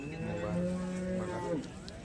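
A cow lowing at a cattle market, one long drawn-out moo close by, rising and falling over a low crowd murmur.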